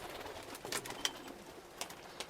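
Large-breed pigeons coo softly in a loft, with a few brief wing flutters and scuffles breaking through a quiet background.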